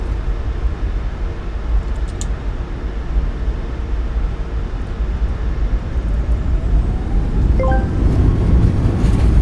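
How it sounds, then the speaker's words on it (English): Boeing 737 MAX 8 rolling out after touchdown in Microsoft Flight Simulator 2024, its thrust reversers deployed for deceleration, giving a steady, loud broadband roar of engine and airflow with no one talking. "Goes down gently, reversers are out, decelerating."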